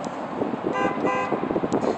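A car horn honks in road traffic, with harmonic toots standing out over continuous engine and road noise at close range.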